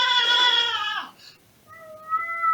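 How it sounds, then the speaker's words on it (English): A cat lets out one loud, drawn-out, tonal meow close by. After a short pause, a thinner, fainter meow follows. "Oh, cat."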